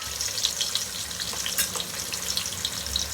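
Onions fry with garam masala in a pan for chicken biryani, giving a dense, even hiss of sizzling with small crackles and a faint scrape or two, close and steady throughout, with no one speaking.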